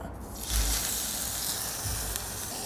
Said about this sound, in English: We're gonna move that over and get a good sear on it.